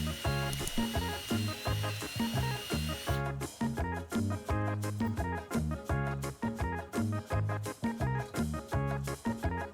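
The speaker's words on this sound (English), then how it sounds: "I used the plate of the bolt as a template and drilled holes in the boards" A power drill bores holes through cedar wood fence boards, its motor whining in short repeated bursts with rhythmic pulses, close and fairly loud, with no one talking.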